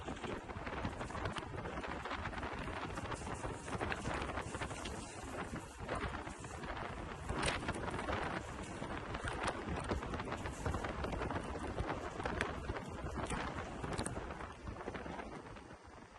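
A River Indie electric scooter ridden at top speed with two riders aboard, heard as loud, continuous rushing wind buffeting the microphone with road noise underneath, no clear talk.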